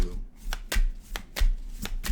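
Tarot cards being shuffled in quick riffled bursts, about five or six crisp flutters close by, with a low hum underneath.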